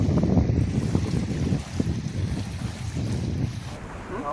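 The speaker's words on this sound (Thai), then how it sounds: "ตอนนี้ก็สิบโมงแล้วลมเริ่มแรงนะครับ" Strong wind gusts across an open reservoir, roaring steadily and close into the microphone with buffeting rumble and faint lapping water beneath, no voices.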